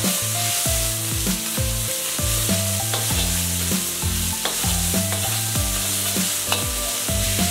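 An egg is broken up and stir-fried in hot oil in a wok, with a continuous loud sizzle and repeated quick scraping strokes of the spatula, and no talking.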